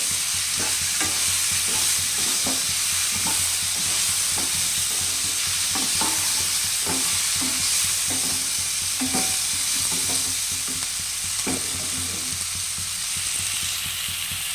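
Green chilli, ginger and tomato fry in a pan under a steady, close sizzle. Quick scraping strokes of a spatula repeat in a fairly regular rhythm throughout. No talking.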